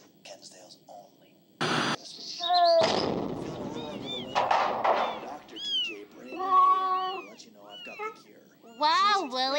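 Cartoonish cat meows from Miss Cat in the video game Amanda the Adventurer 2, several short, rising and falling mews spread across the clip, mixed with louder bursts of noisy game effects.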